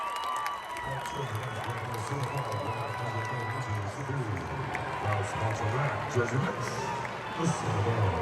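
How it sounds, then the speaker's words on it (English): Basketball fans of Marist and Iona cheering in an arena during the MAAC men's tournament final, a steady, dense roar of crowd noise with shouts and whoops rising and falling throughout. "Marist and Iona fans had reasons to cheer"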